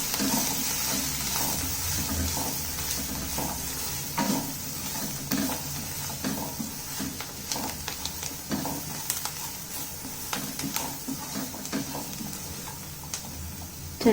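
Samosa filling of spiced mashed-potato mixture with dry mango powder and salt fries in a pan, a soft steady sizzle broken by repeated scraping and stirring clicks from a spoon.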